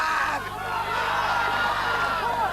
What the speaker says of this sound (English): The crowd are roaring him on.